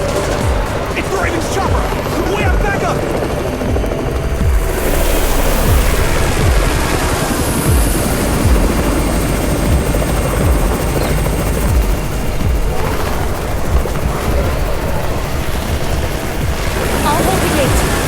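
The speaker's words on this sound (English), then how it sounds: "It's the Raven's chopper! We have backup!" A helicopter arriving in the zombie survival video game Undawn, with heavy rotor noise close and loud throughout, mixed with gunfire, action effects and voices talking over it.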